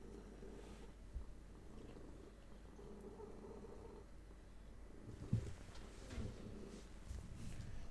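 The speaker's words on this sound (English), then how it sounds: "Kitty, you're now digging your claws in. Ah, cat." A cat purrs softly and steadily at close range, a low rumbling drone with a few small bumps and rustles as it shifts and kneads.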